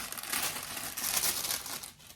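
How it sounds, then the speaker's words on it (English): Plastic packaging for ordered zippers crinkles steadily up close for a couple of seconds, a bright continuous rustle with no voice over it. "Sorry for the crinkle."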